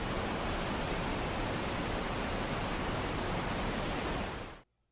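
Steady pink noise hisses loud and even for about four and a half seconds, then cuts off abruptly into silence.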